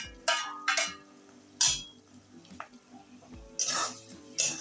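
Capsicum and chillies for batata poha are tossed into a hot pan, giving bursts of bright sizzling and spatula scrapes at irregular intervals over a quieter background hum.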